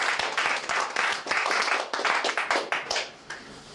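Church congregation clapping together in steady applause, a dense bright patter of many hands filling the room for a few seconds with no talk over it.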